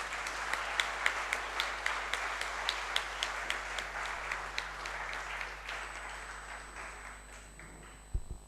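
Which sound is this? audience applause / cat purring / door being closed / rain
audience applause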